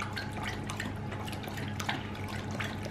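A pet water fountain runs steadily with a soft continuous trickle and light dripping, close by, with a low hum underneath and no talk.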